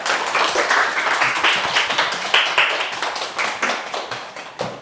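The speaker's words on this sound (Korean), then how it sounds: "박수로 맞이해주세요" Audience clapping to welcome a guest lecturer onto the stage at a Korean talk on reducing plastic, with steady, dense, sustained applause filling the room and no voices over it.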